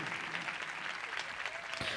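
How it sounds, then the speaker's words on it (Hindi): A church congregation claps loudly and continuously through an Urdu sermon, with broad applause filling the whole moment and no voice standing out. "आइए उसके लिए जोरदार ताली बजाएं।"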